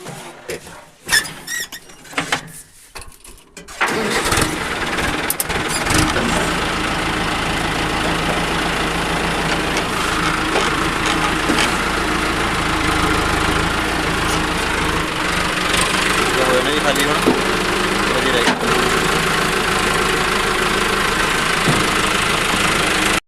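A tractor engine idles steadily at mid volume while sugarcane is loaded, after a few seconds of irregular knocks and clatter, with faint squeaks and voices now and then.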